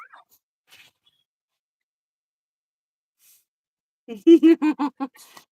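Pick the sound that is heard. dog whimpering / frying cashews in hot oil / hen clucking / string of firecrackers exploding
dog whimpering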